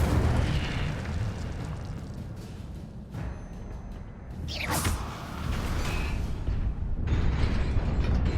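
Incendio fire spell cast in Hogwarts Legacy, a dense roaring whoosh that swells to a sharp burst midway, set against continuous loud game ambience with no talking.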